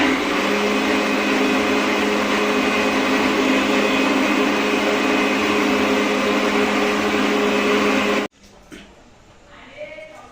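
An old mixer grinder running with an odd noise, a loud steady motor whine with a strong hum that goes on for about eight seconds and then cuts off abruptly, leaving faint room sound and a brief clatter.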